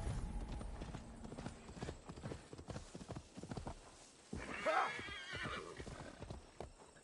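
A horse ridden in Assassin's Creed Valhalla clip-clops with rapid rhythmic hoofbeats close by, and a whinny cuts in midway before the steady trotting carries on.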